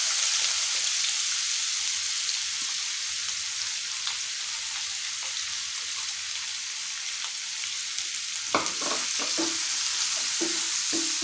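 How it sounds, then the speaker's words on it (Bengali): Finely chopped onion fries lightly in a pan, giving a steady soft sizzle through the whole stretch, with a few louder scraping stirs near the end and no talk. "এটা হালকা ফ্রাই করব যাতে কালারটা না চেঞ্জ হয়"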